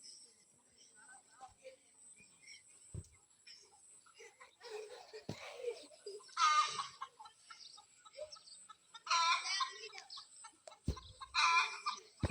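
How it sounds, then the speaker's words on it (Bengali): Layer hens at a poultry farm cluck in a few distinct bursts heard at a moderate distance, separated by quieter stretches with faint background noise and occasional thumps. "এই যে মুরগির ফার্ম এটা হচ্ছে ইয়া ব্রয়লার মুরগির ফার্ম ব্রয়লার মুরগি না সরি লেয়ার মুরগি"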